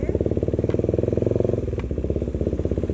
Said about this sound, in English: I can even change gears without using the clutch now. Look, the bike's much less choppy.